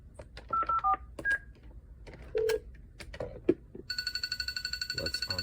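A LANgineers cordless phone handset takes an incoming call: key-press beeps and tones at first, then a steady, repeating electronic ring pattern near the end, fairly close and clear.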